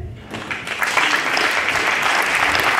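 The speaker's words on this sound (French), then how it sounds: "À la régie, on va applaudir Michel" Applause from a theatre audience after a play about Père Marie-Antoine, starting thin and swelling into full, steady clapping within a second.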